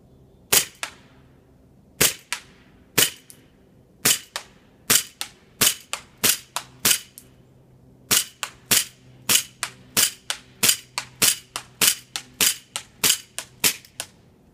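A KWC M1911 airsoft pistol fires BBs in a series of sharp, close snapping shots, some single and some in quick bursts, around twenty in total with short pauses between them.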